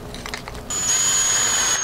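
A surgical power drill spins up on a patient's tibia, a steady high-pitched whine that starts abruptly after quiet rustling and holds loud and even to the end.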